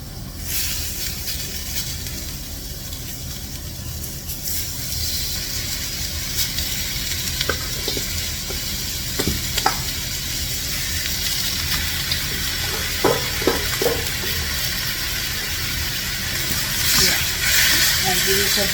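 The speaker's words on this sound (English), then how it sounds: "So very gently you add the fish to the tempered onions." Fish pieces being added to tempered onions in a pan for Sri Lankan chilli fish, a continuous loud sizzle with a few sharp clinks and scrapes, a voice speaking over it.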